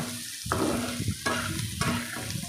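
Fish curry cooking in a pan with a steady sizzle, broken by three louder scraping stirs spaced about a second apart, close and continuous with no talking.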